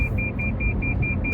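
Toyota C-HR brake warning chime: a steady run of about eleven short, evenly spaced high beeps over the low rumble of the car driving on low-profile tyres.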